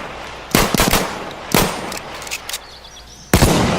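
Pistol-caliber gunfire impacts in the video game Battlefield 1: a handful of sharp, loud cracking shots in quick bursts with short gaps, the last one heavy and abrupt.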